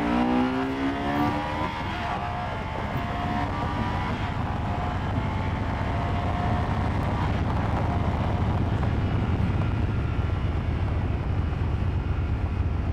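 Moto Guzzi Stelvio motorcycle accelerating hard from second gear at about 50, the engine note rising steadily, heard from the rider's position under constant wind roar.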